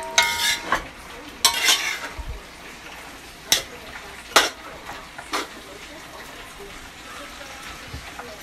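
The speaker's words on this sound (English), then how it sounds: "the reason why I'm stirring it a lot because I don't want for it to get burned" Metal utensil scrapes and clinks against a pot at irregular intervals as chicken is stirred, over a soft steady sizzle of frying.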